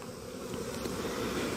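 Honey bee drone buzzing steadily inside a beehive, a close, continuous droning hum with no talk.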